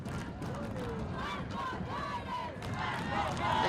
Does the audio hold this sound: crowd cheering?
yes